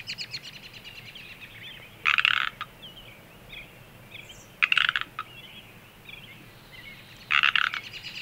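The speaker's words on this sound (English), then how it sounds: "Here is the two-noted ribbit-ribbit sound from ponds and marshes in the springtime." Pacific tree frogs call from a spring pond or marsh: three loud two-noted ribbit bursts a few seconds apart, with fainter croaks from other frogs in between.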